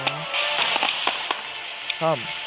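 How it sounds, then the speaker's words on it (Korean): Crackling fireworks bursts go off in a natural-disaster survival video game, a few sharp pops and crackles scattered under excited talking and exclamations from a player. "오 와우 불꽃놀이 봐봐 이거"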